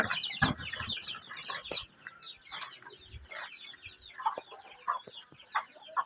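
Small chickens cluck and chirp in scattered bursts at close range, with short sharp calls and soft murmurs coming one after another in a quiet yard.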